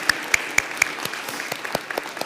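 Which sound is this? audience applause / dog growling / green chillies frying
audience applause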